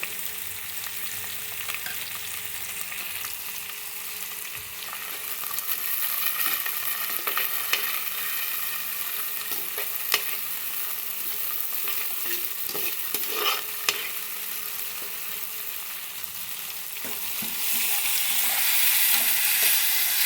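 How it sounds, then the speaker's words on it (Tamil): Sliced onions, crushed garlic and curry leaves sauté in a pan for catfish curry, with a steady close sizzle broken by repeated scraping stirs, no voices. "லேசாக இதுவும் வதங்கிட்டுருக்கு."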